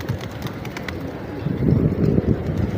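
Pigeons at a city pigeon park in Malé, Maldives: soft, close cooing and fluttering repeat over a busy outdoor background that grows louder midway.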